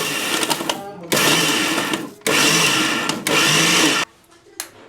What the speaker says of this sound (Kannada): ಇದನ್ನು ನಾವು ಕೋರ್ಸ್ ಗ್ರೈಂಡ್ ಮಾಡ್ಕೋಬೇಕು